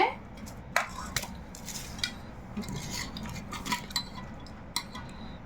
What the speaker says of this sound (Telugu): చికెన్ పచ్చడి కలుపుకున్నాను నేనైతే